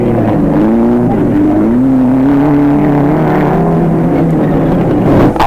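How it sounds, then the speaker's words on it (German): Audi 100 race cars in the 1600cc class race by with a sustained engine drone whose pitch climbs and shifts through gears, loud and continuous with no talk. "dahinter Nummer 26 Adolf Mölzl, beide auf Audi 100."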